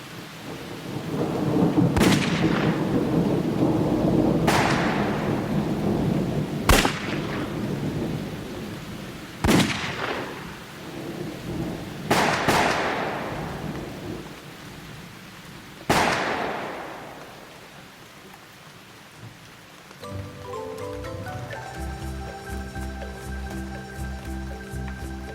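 A heavy thunderstorm with steady rain, several loud thunder cracks arriving at irregular intervals over a constant rain hiss, no voices, the rain thinning near the end as another tonal sound comes in.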